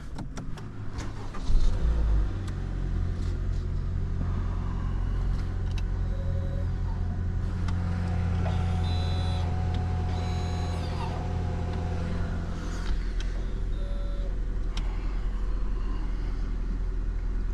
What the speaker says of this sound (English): let's start this thing up real quick